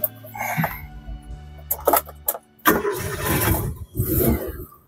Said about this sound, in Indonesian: coba kita nyalakan mesinnya dulu.